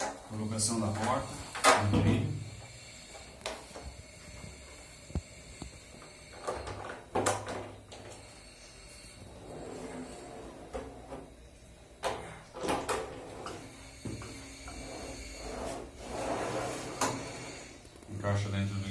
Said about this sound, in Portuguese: Colocação da porta.